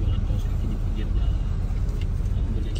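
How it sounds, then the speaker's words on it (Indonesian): Road traffic heard from a stationary bus in a queue on a Malang–Denpasar trip: a dense, steady low rumble of engines with vehicles moving past nearby, continuous and loud, and a person's voice mixed in. "Tuh, udah mulai ada kendaraan yang lewat dari sana."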